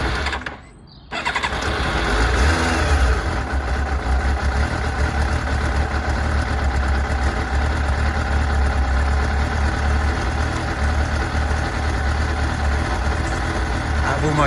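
A 1993 Yamaha YZF 750 R fires up after a brief quiet moment with the choke on, then settles into a steady, close idle that holds for the rest of the clip.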